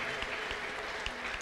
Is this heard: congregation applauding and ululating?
yes